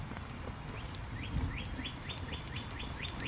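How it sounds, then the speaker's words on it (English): Small wild birds in a backyard wildlife sanctuary give a repeated series of short rising chirps, fairly faint and steady over soft outdoor background noise. "you're going to hear bird noises in the background because we have a sanctuary back here of birds and wildlife"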